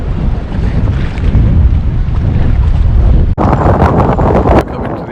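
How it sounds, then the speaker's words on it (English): Sea waves around a boat off Sagres Harbour in Portugal, a constant loud rush of water and heavy wind buffeting on the microphone, with a sharper surging splash near the end. "Quite a few waves around."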